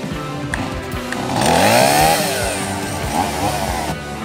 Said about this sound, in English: I'm just going to start by trimming up all these dead branches